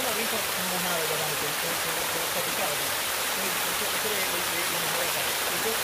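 Salto el Naranjito waterfall running high with heavy water, a dense steady roar of crashing flow, close and constant, faint voices buried beneath.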